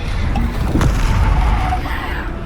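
The Bombarda spell explodes in Hogwarts Legacy with a loud, close booming burst. It rises out of dense, continuous battle noise that stays heavy throughout.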